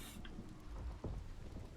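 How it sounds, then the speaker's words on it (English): Constant storm in the video game Hellblade 2: steady rain hiss with low rumbling thunder swells, loud and continuous, with no talk over it. "The constant storm."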